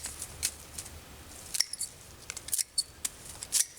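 Handheld shears or pruners snipping garden plants in a winter garden, with repeated crisp cuts at an irregular pace, close and fairly quiet.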